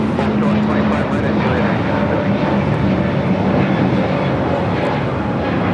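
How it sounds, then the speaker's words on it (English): Airbus A321neo airliner taking off at LAX, a loud, continuous jet engine roar with a steady low rumble and drone holding throughout. "taking off to Guadalajara on the A321neo"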